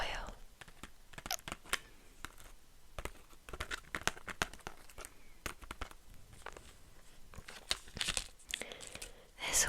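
Vintage 1940s foil from an old sewing bag crinkles and crackles up close in rapid, crisp bursts, with sharp tearing-like rustles scattered through and soft whispering underneath.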